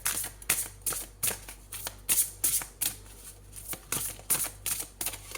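Tarot cards being shuffled and drawn by hand, a rapid run of crisp riffling flutters and snaps, close and fairly loud, repeating in quick uneven bursts with no talking.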